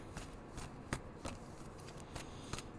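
Tarot cards being shuffled by hand, soft papery riffling with sharper slaps at irregular intervals, close and quiet.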